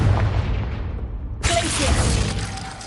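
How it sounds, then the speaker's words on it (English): A Confringo fire explosion spell goes off in a Hogwarts video game, a single heavy boom that breaks into a wide, crackling burst about halfway through and sustains loudly to the end. "Incendio! Confringo!"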